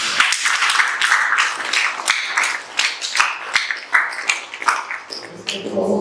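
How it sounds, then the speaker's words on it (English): Hotel and suites staff at a training session clap for the trainer, a steady round of many hands close by, loud and continuous, fading slightly toward the end. "One more time, shall we clap for him?"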